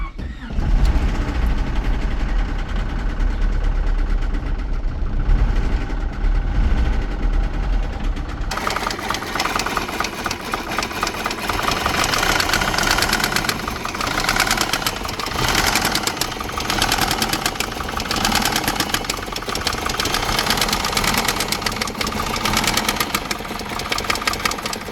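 Honda F23A engine with a knocking fault, running loudly and continuously up close, its rough, dense mechanical clatter filling the sound after an abrupt shift early on.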